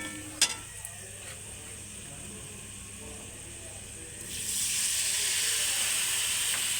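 Water added to spices frying in a pan for a Bengali furuli dish sets off a sudden loud, steady sizzling hiss partway through, after a quieter stretch of low frying noise and a couple of small clicks.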